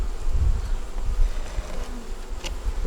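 Honey bees buzz close around an open hive, a dense, wavering drone with individual insects swelling louder as they pass near.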